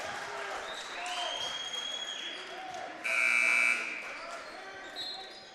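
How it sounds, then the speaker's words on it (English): A shot clock buzzer sounds at a men's college basketball game, a loud sustained tone lasting under a second over crowd noise and commentary. "the shot was up before the buzzer"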